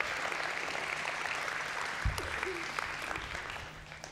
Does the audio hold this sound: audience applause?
yes